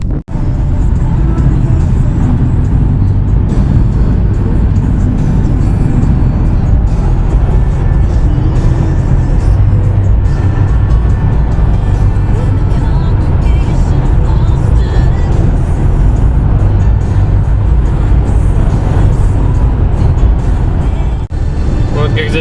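Steady, loud road and engine rumble from inside a car driving along a desert road toward canyons, continuous for the whole stretch with no clear talk.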